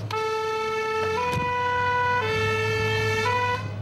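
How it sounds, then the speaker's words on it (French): Firefighters' ambulance siren wailing in a two-tone pattern, loud and close, the tone switching back and forth against a steady engine drone. "C'est leur ambulance qui doit transporter les blessés à l'hôpital."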